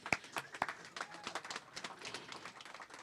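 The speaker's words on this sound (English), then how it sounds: "Yes, clap for that." An audience at a veterans celebration in a hall gives scattered applause, a brief patter of claps that starts sharp and then thins into lighter clapping.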